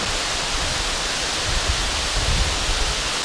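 A huge waterfall on the Mount Lafayette trail in New Hampshire roars as a steady, broad wash of rushing water, constant and moderately loud with no voices.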